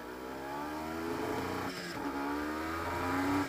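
A Honda NSR 250 MC28 two-stroke motorcycle revs steadily up close, its engine tone climbing and holding with a brief dip midway, heard alone without talk.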